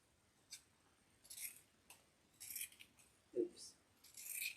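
Scissors snip ribbon for a thin Easter wreath in a few quiet, crisp cuts spaced over several seconds, close but faint, with light rustling between.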